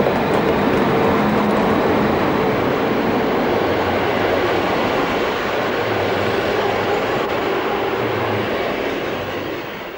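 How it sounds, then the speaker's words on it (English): A Class 140 electric locomotive hauling a freight train rumbles past along the Rhine at Bacharach in July 1994, a loud and steady rolling roar with wheel clatter that holds close throughout and eases slightly at the end. "Number 14836 departs for Koblenz on 25th July"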